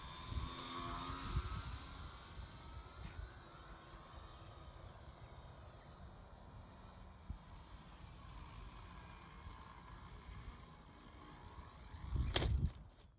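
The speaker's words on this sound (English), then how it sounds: "The plane handles very well, as you can see." An electric RC model airplane, a Guillow's conversion of the Aeronca Champ 85 weighing under 3 ounces, flies at a distance as a faint, steady whirring drone, with a louder gust-like burst near the end.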